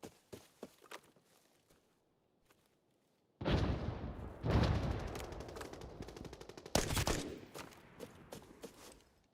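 Gunfire from a fight in Arena Breakout: Infinite, first some faint scattered distant shots, then a loud sustained burst of rapid automatic fire with sharp cracks, some sounding close and others farther off.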